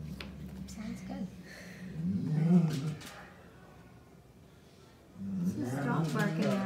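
A dog's yips and whimpering barks come in short bursts near the start and again at the end, between quiet stretches, with a person talking close by.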